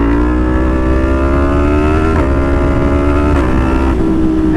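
A Yamaha FZ/MT series motorcycle engine held steady near its peak-torque revs, loud and close, with brief blips in pitch as the throttle shifts, alone without talk.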